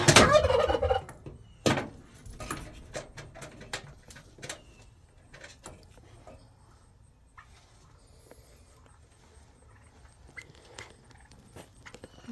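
Turkeys gobble on a ranch, a loud burst up close at the start and then a run of sharp, scattered gobbles and clucks over a quiet background, with some footsteps mixed in.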